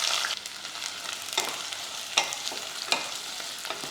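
Whole cinnamon, cardamom and cloves fry in oil in a pressure cooker, giving a close, continuous crackling sizzle broken by several sharp scraping stirs spaced about a second apart; no one speaks.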